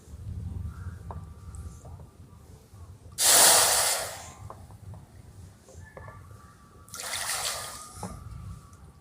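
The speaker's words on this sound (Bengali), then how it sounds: "এখানে আমি দেব 3 বাটি জল।" Water poured from a bowl into a pot for sugar syrup, with semolina and sugar nearby: two loud splashing pours, the first about a second long and the second briefer, set against quiet kitchen background.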